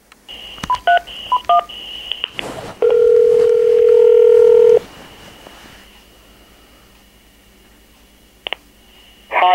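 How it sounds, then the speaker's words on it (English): Telephone dialing tones as a call is placed: a quick series of short keypad beeps, then a loud steady two-second tone, followed by faint line hiss and another brief beep burst at the end. "But let's give Dave a call and see if he's ready."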